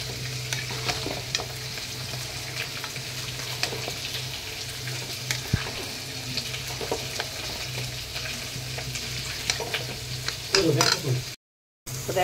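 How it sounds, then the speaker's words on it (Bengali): Mutton is stirred into fried spice masala for a home mutton curry, with a continuous close sizzle broken by scraping stirs and clinks of the spoon. Near the end a brief louder clatter comes just before a short cut. "মটনটাকেও দিয়ে দিয়েছি, ভালো করে মশলার সঙ্গে মিশিয়ে নেব।"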